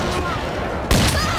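Gunfire in a shotgun game event sounds as a burst of close, loud shots crackling over constant game noise.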